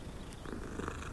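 A cat purring steadily while being petted in the video game Hogwarts Legacy, a soft continuous rumble close up with game ambience underneath, no talking over it.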